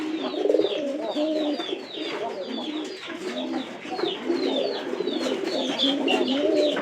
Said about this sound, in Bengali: পায়রার ডাকের শব্দ কিন্তু অনেকটা কমে থাকে